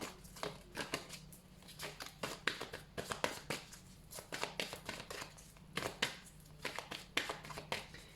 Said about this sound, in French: je recouvre les 3 cartes de synthèse, parce que c'est important de les recouvrir